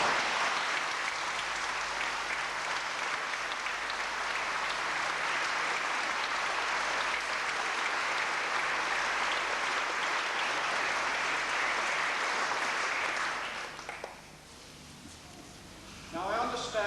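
A congregation inside a restored parish church claps steadily for about thirteen seconds, the applause echoing in the hall before fading out, then some voices and movement follow.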